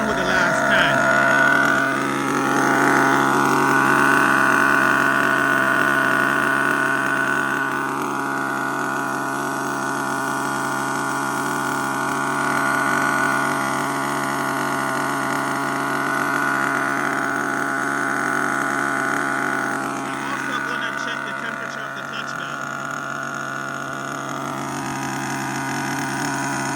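A nitro HPI Savage GTXL-6 RC truck engine idles evenly during break-in, a steady, fairly quiet buzzing hum that holds constant throughout with little variation.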